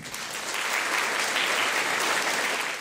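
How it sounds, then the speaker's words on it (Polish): Steady, dense applause from a crowd at a Polish high-school prom ball, loud and continuous throughout with no break. "I gorące, gorące brawa dla Was."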